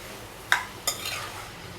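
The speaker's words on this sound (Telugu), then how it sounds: "చింతపండు టమాటో యాడ్ చేసిన తర్వాత మరొకసారి బాగా కలిసేటట్టు మిక్స్ చేసుకోవాలండి." Tomato and tamarind are mixed in a pan for ridge gourd chutney, two quick utensil scrapes against the pan over a soft, low sizzle, with no voices.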